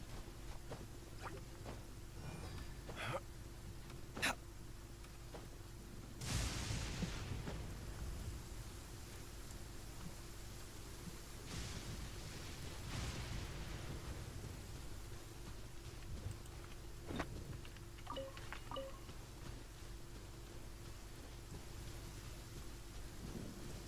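Thunderstorm in the video game Genshin Impact: steady rain hiss with several sharp thunder cracks and rumbles spread through the scene, no talking.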